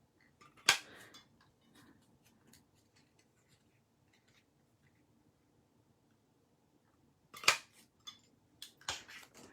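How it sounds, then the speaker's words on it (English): A tailor tack punch cutting the ends of handmade birthday card stock: two or three sharp, crisp clacks spaced far apart, close and clear, with faint rustling between them in an otherwise quiet room. "I'm going to cut the ends with the tailor tack punch"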